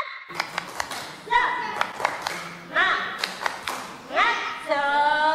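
Children at a Sunday school service at GKJ Nusukan Surakarta do a rhythmic spirit clap, with sharp claps in quick patterned bursts between short voiced chants, fairly close and lively.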